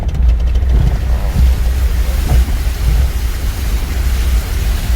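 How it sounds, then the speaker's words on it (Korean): Steady low rumbling rush of fast-flowing muddy water running down from a mountain after a rain shower, loud and continuous with a broad churning roar throughout. "벌써 산에서 흙물이 내려오네요."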